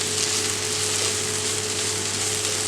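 Ivy gourd masala fry being stirred in a pan, giving a steady, even sizzle with a low background hum and no distinct scrapes, close and continuous.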